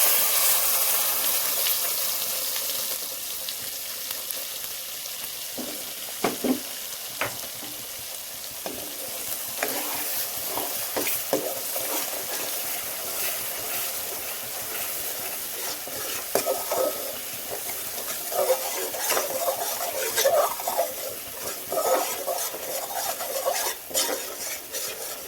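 Paste frying in oil in a pan for a paneer matar curry, with a continuous sizzle and repeated scraping and clinking of a spoon stirring against the pan, fairly close and steady for the whole stretch.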